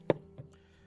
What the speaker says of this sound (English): Quite a bit of chopping here.